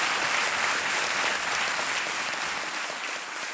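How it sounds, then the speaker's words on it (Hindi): Loud, dense applause from a studio audience on a televised quiz show set, steady for the full stretch and easing slightly toward the end, with no talk over it. "जोरदार तालियां बज जाए इनके लिए"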